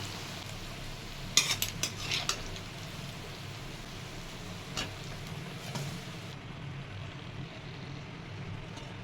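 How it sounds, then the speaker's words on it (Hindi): Jackfruit pieces fry in oil with a moderate continuous sizzle, plus a few early clinks and scrapes of a utensil stirring in the pan, and no talking. "इसको अच्छी तरह से थोड़ा फ्राई करेंगे"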